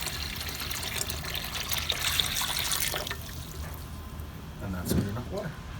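Water pours and splashes into a canner holding canning jars for home-canned moose meat, a steady rushing flow that fades, with brief clinks and splashing near the end.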